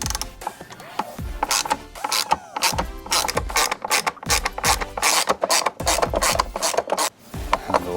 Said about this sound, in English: These again are T15s, and again I think I'm just going to go ahead and use the ratchet.